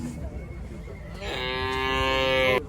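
At a livestock market in Kyzylorda, a calf or cow lets out a single drawn-out moo that starts after a second of background murmur, grows louder and ends abruptly, heard up close.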